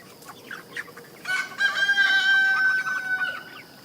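Young chickens, including a pullet, cluck and give a short crowing call at close range, loud for about two seconds after a few faint chirps.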